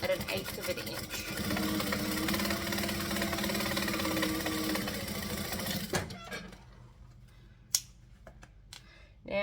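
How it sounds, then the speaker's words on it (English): A sewing machine top stitches fabric at 1/8 inch, running as a steady, fairly loud mechanical whir for about six seconds before stopping, followed by quiet with a couple of brief clicks. "So now I'm just going to top stitch at 1/8 of an inch."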